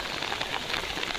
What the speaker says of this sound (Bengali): এত বৃষ্টি বলার মতো না গাইস